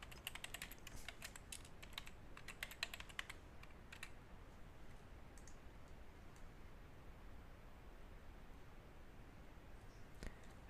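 Faint typing on a computer keyboard while entering passwords during a web hosting setup, a quick flurry of light clicks early on, then sparse isolated taps and a last click near the end over a quiet hiss.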